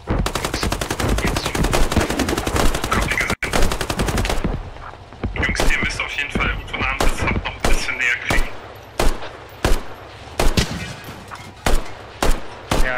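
Sustained machine-gun bursts in the video game Squad fired at a vehicle, a dense rapid rattle followed by separate single shots spaced out, loud and close with no talk.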